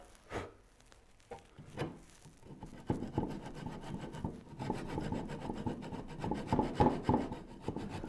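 Hand saw cutting through wood for a Moxon vise, rasping strokes repeating in an uneven rhythm, sparse at first and then steady and continuous, close by with no talk.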